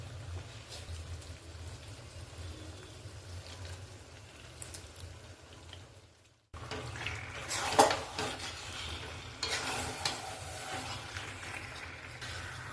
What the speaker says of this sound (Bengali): এবার এই মশলা দিয়ে মাংসটাকে একটু ভালো করে কষিয়ে দিতে হবে